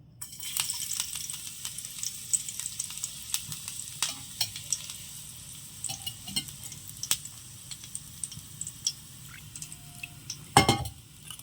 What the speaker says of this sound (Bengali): তেলের মধ্যে কয়েক কোয়া রসুন দিয়ে দিলাম।